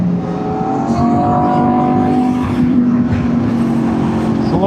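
Two 600cc sport motorcycles race side by side on the road, engines revving hard and steadily. The whine rises and falls through the gears, loud and close, with wind rush underneath.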